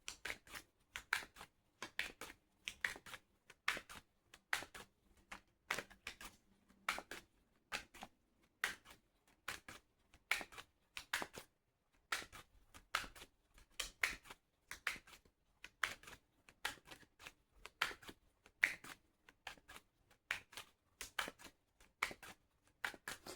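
Tarot cards being shuffled make a steady stream of faint, crisp flicking clicks in rapid repeated bursts for over twenty seconds, quiet and close with no voice.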